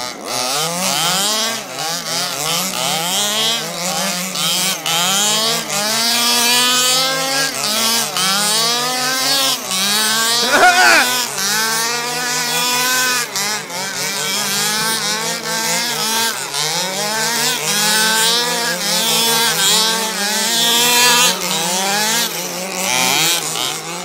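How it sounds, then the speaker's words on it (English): Two gas-powered FG Baja and FG Marder RC car engines rev hard and close, their buzzing two-stroke whine rising and falling in repeated bursts throughout. "Just turn it and then rev."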